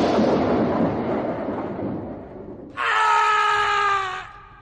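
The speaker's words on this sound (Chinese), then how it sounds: "叶江凄厉的惨叫声便是响彻传荡" A rushing, rumbling whoosh fades out, then a sharp, agonized scream sound effect from an audio drama cuts in alone, loud and sustained for over a second before trailing off.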